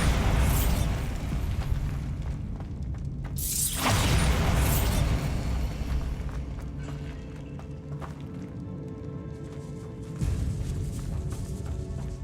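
A Bombarda blasting spell goes off in a Hogwarts Legacy catacomb, a loud bright burst partway through, preceded by rumbling combat noise and followed by a fading debris crackle and ambient hum.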